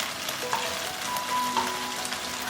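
Chicken wings pan-fry in a little oil on very low heat under a lid, a steady soft sizzle with a couple of small clinks and light crackles, heard close and without any talking.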